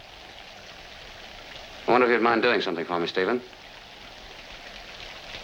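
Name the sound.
rain falling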